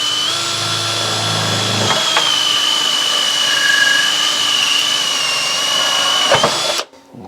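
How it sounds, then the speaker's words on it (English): A power drill with a holesaw whines at full speed, a loud steady high-pitched drone grinding through a metal electrical consumer unit for several seconds before abruptly cutting off. "I'll go on full speed and I'll drill through this consumer unit."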